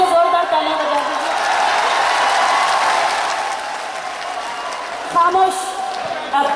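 Audience applause and cheering for a poet at a ghazal mushaira, a broad steady wash of clapping that swells early, fades, and then returns in smaller bursts near the end.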